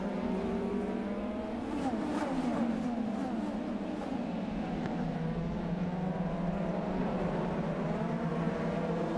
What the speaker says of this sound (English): Big scramble already as they come up through the gears.